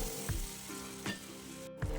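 Potatoes and onions frying in a pan with turmeric and chili powder for a prawn curry, giving a close, continuous sizzle broken by a few soft knocks and stirs.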